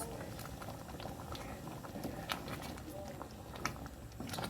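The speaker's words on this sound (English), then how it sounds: "So I'll let it simmer for a while, and then our stew is ready." Beans stew simmering in a pot, a steady close bubbling and gentle popping that runs throughout with a few sharper pops, moderately loud.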